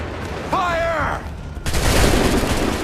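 Musket volley fire in an Assassin's Creed 3 battle: a shouted command, then a loud, sustained crackling burst of many guns going off together, lasting over a second close by.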